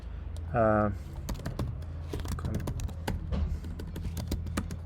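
Python code is typed on a computer keyboard in a steady stream of quick close clicks, over a low hum, with a short voiced sound near the start.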